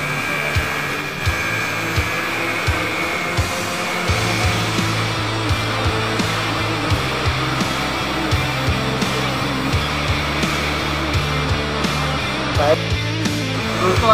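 TIG welding a root run on an Inconel 600 single-J butt joint with Inconel filler wire produces a steady close hiss and hum, broken by faint low buzzing pulses, running continuously throughout.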